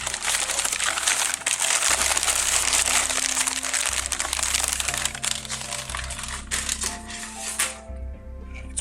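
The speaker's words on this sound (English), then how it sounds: "It's probably the noisiest unboxing in my history." Headphones and accessories are unwrapped from regular paper, with loud continuous close crinkling and crumpling and a few rustling bursts that settle near the end.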